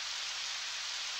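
Rain in the video game Harvest Moon 64, a steady, even hiss of rainfall with no other sounds.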